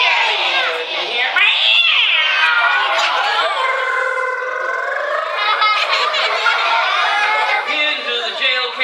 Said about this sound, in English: Into the jail came the cat.